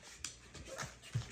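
A 4-week-old Bully-breed puppy whimpers and pants in short, soft bursts during its shots, with faint rustling between the little cries.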